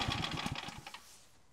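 A Briggs & Stratton engine on a 15-tonne log splitter putters at low revs with rapid rhythmic firing, then sputters and dies away into quiet as it shuts off.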